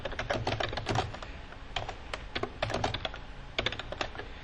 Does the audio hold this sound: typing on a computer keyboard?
yes